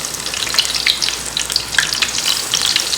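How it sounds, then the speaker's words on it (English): Eggplant deep frying in hot oil, a dense, bright crackling sizzle with constant popping bubbles, close and steady throughout. "I just deep fry this eggplant"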